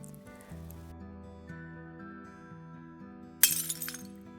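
Glass shatters with a sharp crash and a short tinkling scatter of shards, loud against a steady background of music while making a DIY textured wall artwork with foam board backing.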